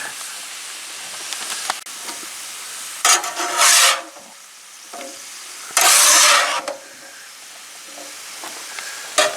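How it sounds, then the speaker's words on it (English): Chanterelle mushrooms sizzle on a Blackstone skillet with a steady hiss, swelling into two loud bursts of frying, one in the middle and one later. "Joe's got a whole Blackstone skillet full of chanterelle mushrooms now that he's getting ready to cook, or they're starting to cook"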